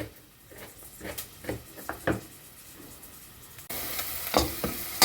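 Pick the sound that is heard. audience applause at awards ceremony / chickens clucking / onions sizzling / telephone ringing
onions sizzling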